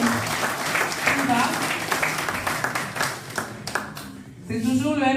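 Audience clapping for a guest introduced at a gathering of the MLC France political federation, bursts of applause rising and falling under a voice, with a brief lull before a final swell.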